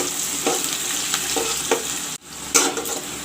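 Sliced onions and slit green chilies fry in a pan for drumstick curry, giving a loud, continuous sizzle with repeated scraping strokes of a spatula stirring them.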